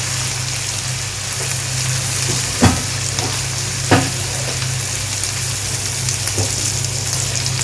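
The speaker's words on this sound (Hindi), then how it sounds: "दो तीन मिनट इनको भी भूनेंगे हम इस तरह।" Ingredients for a potato and egg curry frying in a pan, a loud, constant sizzle like light rain with a few knocks and scrapes from the stirring spoon.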